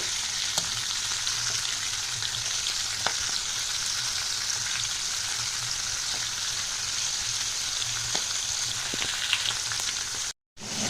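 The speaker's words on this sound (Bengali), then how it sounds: "তো মাথাটা ভেজে নেব।" A hilsa fish head fries in hot oil in a pan, giving a steady, dense crackling sizzle that runs evenly throughout, close up, with occasional louder pops and no voices.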